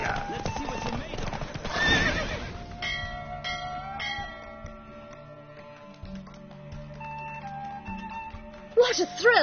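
Hooves clip-clopping at speed from a galloping horse in The Witcher 3 video game, with a neigh and music playing throughout, and a voice calling out over the top.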